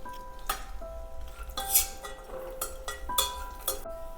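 A spoon clinks and scrapes against a pan as dry dates (kharik) are stirred and roasted in ghee, giving a few sharp metallic knocks over a quiet background.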